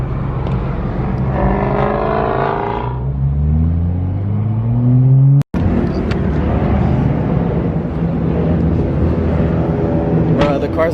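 A BMW M5 drives past on a street, its engine rising in pitch as it approaches and accelerates, then a brief cutout followed by steady road and engine noise as it moves on.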